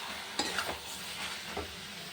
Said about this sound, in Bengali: আর একটু নাড়াচাড়া দিয়ে হয়ে যাবে